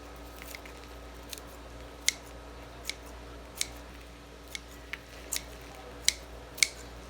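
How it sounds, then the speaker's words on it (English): Sharp, close scissor snips trim the loose ends of a braided garlic bundle, sounding as scattered single cuts over a quiet background. "let's get my scissors. Okay, then I just trim it up to make it look nice."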